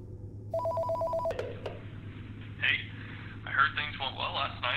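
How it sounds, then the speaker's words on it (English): A telephone rings for an incoming call in a horror video game, a short steady electronic trill that is quickly cut off, followed by a player talking over a low, constant hum. "Am I getting a phone call?"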